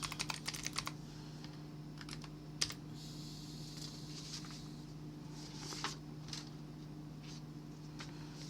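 Keystrokes on a computer keyboard clatter in quick bursts of clicks with pauses between, close and fairly quiet over a steady low electrical hum, while someone enters spreadsheet formulas.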